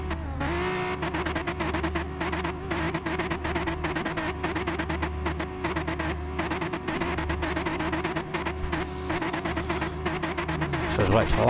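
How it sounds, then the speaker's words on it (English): Race cars in Gran Turismo Sport revving on the starting grid before a league race, a dense layered roar of many engines with rapid buzzing pulses, building louder toward the end. "Everyone's revving up now."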